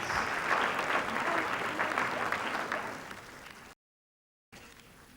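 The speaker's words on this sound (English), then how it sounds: "Ladies and gentlemen, a round of applause, please." Audience applause at the Miss Universe Sri Lanka 2011 beauty pageant, loud dense clapping from a large crowd that fades, breaks off into brief silence, then resumes faintly.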